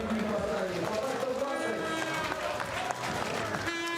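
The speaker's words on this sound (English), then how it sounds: "Get the appreciative Russian crowd." A warm Russian crowd at the bottom of the Sochi skeleton track cheers and applauds a finishing slider, a steady wash of crowd noise with music mixed in throughout.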